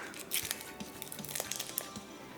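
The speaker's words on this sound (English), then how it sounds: "carefully peel off the paper" Faint, dry crinkling and light tearing as thin papery skin is peeled off shallots, soft scattered rustles close by with no voices.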